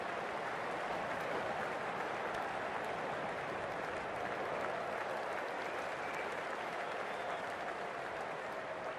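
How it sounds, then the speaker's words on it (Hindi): A crowd in the Cricket 24 video game applauds in a steady, dense clapping wash that holds at an even level for the whole stretch. "तालियां बजाओ तालियां बजाओ।"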